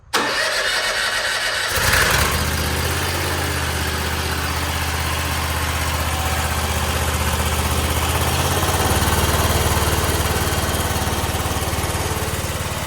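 A zero-turn mower engine cranks briefly, catches and settles into a steady loud idle close by, rising slightly in pitch near the end as it runs on.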